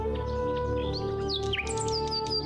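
A small bird chirps in a jungle scene, giving a quick run of high, bright tweets over a steady low background hum.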